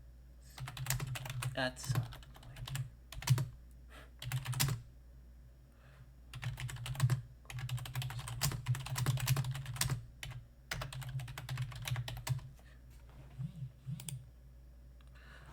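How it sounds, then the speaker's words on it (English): Fingers typing on a computer keyboard in irregular bursts of rapid clicky keystrokes separated by short pauses, close and fairly loud, with a quiet voice briefly speaking. "I was just typing something"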